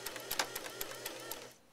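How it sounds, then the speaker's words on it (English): A home sewing machine stitches straight down the side seam of a pair of shorts. The needle gives a quiet, rapid mechanical chatter with a few sharper ticks, briefly and close by, and then winds down. No speech. "Now I'm going to sew straight down."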